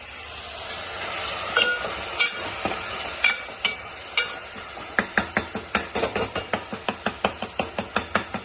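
Food frying in peanut oil gives a steady, close sizzling hiss, then a run of sharp, evenly spaced taps like a utensil striking the pan in a quick rhythm.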